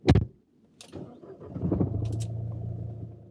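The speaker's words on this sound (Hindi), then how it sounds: "और अब सेल्फ मार के गाड़ी स्टार्ट करते हैं" A Mahindra XUV 3XO MX3 starts on its self-starter: a sharp click, then the starter cranks briefly before the engine catches and settles into a steady, low idle, recorded close up with no talking.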